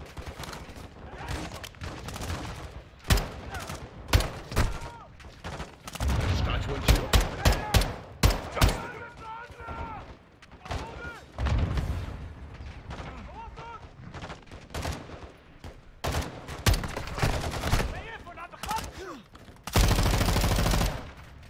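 Gunfire from the 2022 video game Call of Duty Modern Warfare 2, with repeated loud bursts and single shots scattered across a combat scene, plus a dense sustained volley near the end, mixed with voices shouting between shots.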